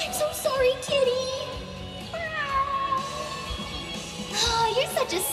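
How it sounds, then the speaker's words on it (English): A cat meows repeatedly in rising and falling cries, close and fairly loud, mixed with voices talking at a crowded anime expo panel. "No way, a cat!"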